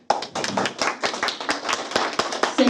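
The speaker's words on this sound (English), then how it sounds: "please clap your hands." Scattered hand clapping from an audience at a speech contest, distinct individual claps in an uneven rhythm rather than a dense roar, close and clear with no talking.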